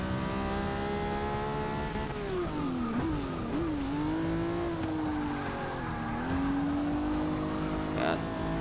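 A race car in the video game Forza Motorsport 6 holds a continuous engine drone whose pitch dips and climbs as it shifts and revs, loud and up close, with a faint tire screech near the end.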